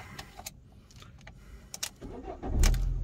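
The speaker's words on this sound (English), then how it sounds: "Let's start the car." Fiat 500C convertible, 2014, with a 1.2 petrol engine and five-speed manual, heard from inside the cabin: a few clicks and rustles, then the engine cranks and catches into a low idle at the end, fairly quiet, no talking.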